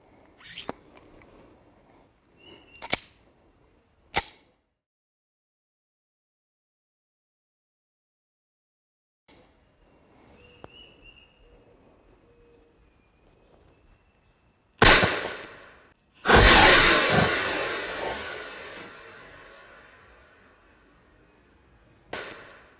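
Blank rounds fired from a WASP personal defense launcher during practice: a few sharp cracks early on, then after a quiet gap two loud, close reports, the second trailing into a long hissing roar before fading. No one talks.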